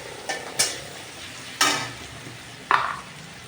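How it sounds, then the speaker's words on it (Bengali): Leafy greens fry in a pan under a low, constant sizzle, stirred three times with a spatula that gives clear, sharp scraping strokes. "একটু লাল লাল করে ভেজে নেব, না ভাজলে ভালো লাগে না।"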